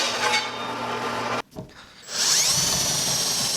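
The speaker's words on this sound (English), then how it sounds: "Drilling some pilot holes so that the router has somewhere to drop into." A power drill whirs steadily while drilling pilot holes into wood, cuts out for a moment, then spins back up with a higher, louder whine.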